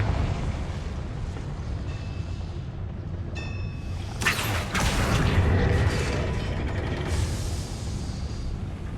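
Spell blasts from Bombarda and Confringo in the Hogwarts Legacy video game: a sudden booming burst with whooshing debris and crackling rumble that lingers, preceded by mechanical clanks, with no talking.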